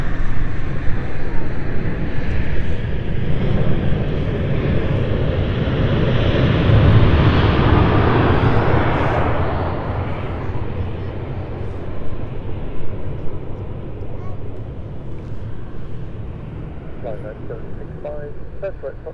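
An ITA Air Embraer 190 LR jet at London City Airport swells to a broad roaring rush, peaking midway and then fading as it moves off, heard from outdoors at moderate distance.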